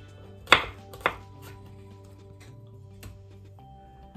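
A knife chops garlic cloves on a cutting board for a summer soup, with two sharp, close chops followed by fainter light taps in a quiet kitchen.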